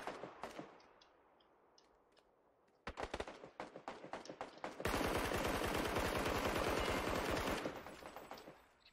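Rapid automatic gunfire in a video game, heard first as scattered close shots, then as tight bursts of rounds, and finally as a loud sustained stream of fire that lasts several seconds before it cuts off.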